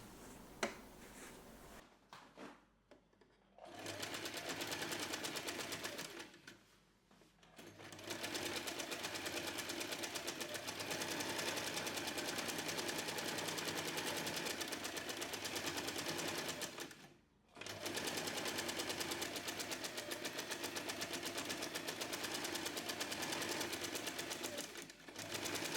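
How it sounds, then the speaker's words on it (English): A sewing machine stitches the corners of a tote bag in long, steady whirring runs, stopping briefly between seams before starting again, close and clear with no talking. "So I open up each corners and go straight to the sewing machine."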